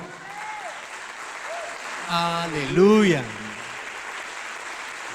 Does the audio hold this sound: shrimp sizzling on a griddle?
no